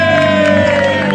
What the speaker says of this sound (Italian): e poi un grande applauso per il maestro Demetrio Caiazzo